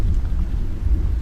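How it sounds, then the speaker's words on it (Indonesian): Low rumble of thunder during light drizzle, a steady deep roll with a faint patter of rain, in cool weather outdoors. "ada glodok, pas ada gerimis,"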